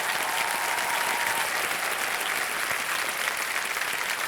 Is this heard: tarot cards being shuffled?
no